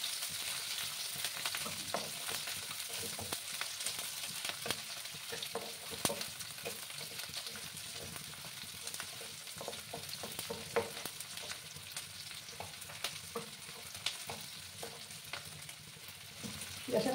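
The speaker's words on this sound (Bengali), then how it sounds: "পেঁয়াজগুলোকে একটু লাল লাল করে আমি ভেজে নেব।" Sliced onions frying on high heat for a Bengali rui fish curry with gathi kochu, a continuous faint hissing sizzle with irregular crackles and occasional stirring clicks throughout.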